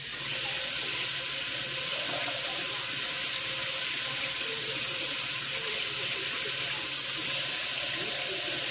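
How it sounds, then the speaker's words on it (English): Southern fried steak sizzles in a frying pan, a steady, dense hiss that runs evenly and fairly loud throughout, with no talking. "And let's let them fry."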